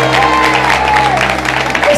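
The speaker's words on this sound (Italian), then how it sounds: "Applausi!" Applause at a birthday party with singing, dense and steady for two seconds, with a sustained tone and low hum running underneath.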